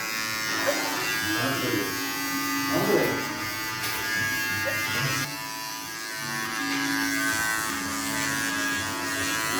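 An electric hair clipper buzzes steadily through a child's haircut, a close, continuous hum running the whole time beneath people talking.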